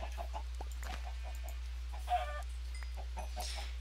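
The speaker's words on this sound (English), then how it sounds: "And I have found Chicken Paradise." Chickens cluck in short, repeated bursts across a video game farm area in ZooCrafting, with one louder call standing out briefly amid the steady, moderately distant flock chatter.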